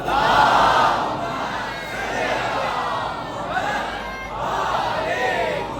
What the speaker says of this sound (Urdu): جب یہ آپ بلند صلوات پڑھتے ہیں نا